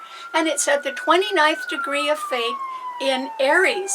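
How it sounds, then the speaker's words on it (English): A siren wails faintly in the background with a slow, steadily falling tone, while a person talks over it in the foreground. "Pardon the sirens, too."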